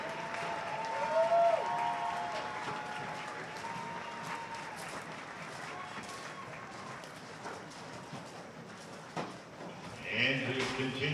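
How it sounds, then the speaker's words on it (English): Sustained crowd applause fills a stadium during a college football halftime show at a Franklin Pierce vs New Haven game, steady and broad throughout, with a brief announcer-style voice and some tonal sound rising near the end. "One more big round of applause for the present and the future."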